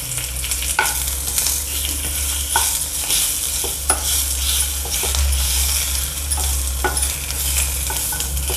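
Dried coconut roasting with a little oil in a pan for bhindi amti, a continuous close sizzle with repeated scraping stir strokes and occasional light clinks, no voices.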